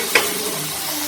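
Shallots, garlic and ginger frying in oil for goat leg soup, an even close hiss and sizzle opening with a brief clink, no talking.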